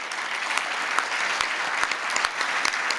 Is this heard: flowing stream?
no